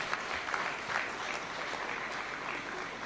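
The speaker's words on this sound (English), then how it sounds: "A round of applause for the NIS." Dense, steady applause from a large audience at a State House Taxpayers' Day awards ceremony, even and sustained with no voices over it.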